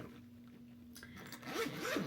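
A zipper runs along a toiletry bag in one continuous pull, close and clear, rising in scratchiness toward the end, with no talk.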